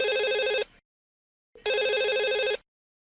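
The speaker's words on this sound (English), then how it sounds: "the phone rings, she answers it" Two bursts of an electronic telephone ringing in the horror film Scream, each trilling ring about a second long with a short silent gap between, clear and close with no voices.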